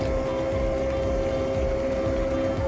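Water runs steadily through a micro sluice used for extracting gold from classified creek dirt in Maryland, a continuous close pouring and bubbling flow with a faint steady tone, no voices.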